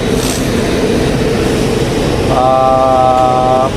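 Steady loud rumble of a passing train at a railway station platform, with a sustained multi-tone horn or whistle sounding near the end, no talking.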